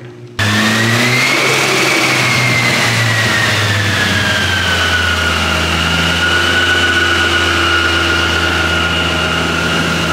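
A rear-wheel-drive Honda Civic engine winds up on a dyno in a sustained, steady rev, loud and close, its pitch climbing then holding high for several seconds with no talking.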